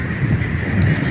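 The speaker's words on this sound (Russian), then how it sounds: "У нас ураганный ветер." Hurricane-force wind gusting through a dark park of old trees on a frosty November night, a steady loud roar buffeting the microphone with low rumbling throughout, no voices.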